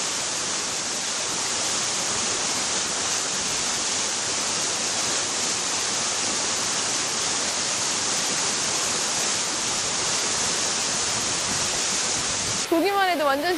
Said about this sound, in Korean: 워낙 물이 맑고 시원해 선녀도 논을 다 갔다는 선녀 폭포를 안 보고 그냥 갈 수는 없겠죠?